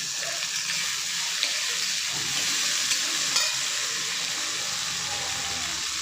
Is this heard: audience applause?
no